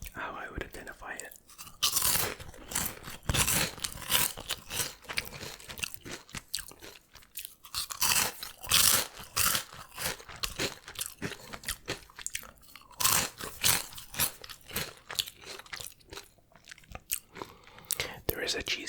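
Imported Cheetos get crunched and chewed right at the microphone in loud, crisp bursts of bites and grinding, with soft whispering between mouthfuls.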